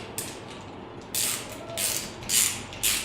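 A torque wrench tightens the nut on an Oasis FV103 toilet fill valve, giving several short ratcheting, creaking bursts in an uneven rhythm, close and fairly loud with no talking.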